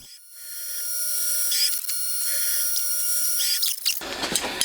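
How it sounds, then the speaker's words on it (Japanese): A long drill bores a 3 mm hole about 110 mm deep into a head cover for a handmade 125cc four-cylinder 16-valve engine, a steady high whine, close and continuous, ending in a rougher grinding scrape. "その後ロングドリルに持ち替えて掘り込んでいきます。"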